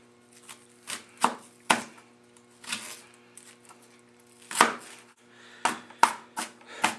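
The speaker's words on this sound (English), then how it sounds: "So I'm going to start by just cutting off a small piece of my onion." A knife chops an onion on a cutting board in a home kitchen, with about a dozen crisp, close knocks coming in irregular bursts, separated by brief quiet gaps.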